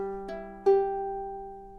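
A ukulele chord strummed twice, the second strum louder and left to ring out clearly with a bright, sustained major sound.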